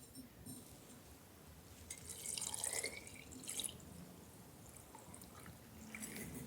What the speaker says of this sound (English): So after that, you just pour it into the bottle